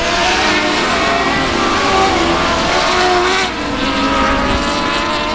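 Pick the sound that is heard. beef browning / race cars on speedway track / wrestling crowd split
race cars on speedway track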